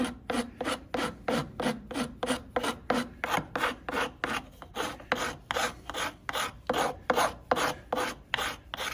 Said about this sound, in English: But shape it with the file.